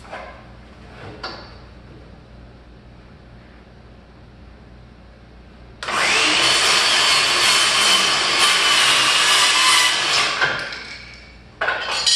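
A saw cuts across the bottom edge of a wooden prehung interior door, a loud sustained rasping burst of about five seconds after quieter handling noises, with a brief start of cutting again at the end.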